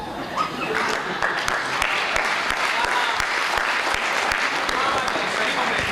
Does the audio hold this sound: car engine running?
no